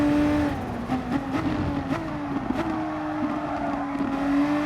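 A VW Supersport race car from a racing video game circuits the Red Bull Ring, its engine holding a steady, loud drone with small pitch shifts and brief gear-change blips as it is pushed hard through right-hand corners, with no voices.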